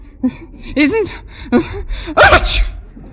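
A single loud sneeze after some soft gasps and brief murmuring, close and sudden.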